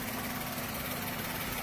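A 2013 Maruti Suzuki WagonR VXI petrol engine idles steadily at close range, a smooth, even hum with no revving or other sounds.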